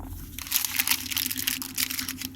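Close, continuous crinkling of a paper wrapper, with irregular rustling bursts throughout and no talking.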